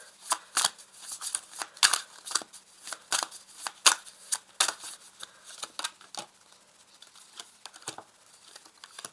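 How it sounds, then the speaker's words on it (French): Oracle cards are shuffled and laid out in quick, crisp riffling flicks and soft slaps, close and steady at first, then sparser toward the end. "Alors sur chaque carte, je vais ajouter 2 cartes, avec ici l'oracle céleste."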